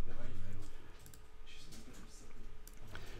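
A password typed on a computer keyboard, with soft irregular key clicks heard close by under a person talking.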